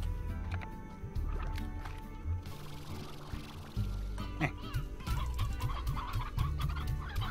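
Chickens cluck continuously in the Slime Rancher video game, with a brief crow among the clucks, over busy game sounds and music, loud and close throughout.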